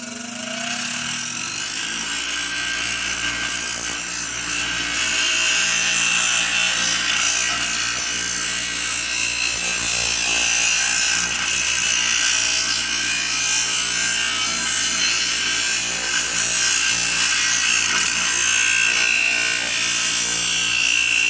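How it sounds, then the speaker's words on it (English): A grinding wheel deburrs and rounds the edges of a metal hockey helmet, giving a steady, loud, harsh grinding hiss that runs continuously at close range. "Grinding wheel to deburr the edges and to put a little bit of a radius on the corners."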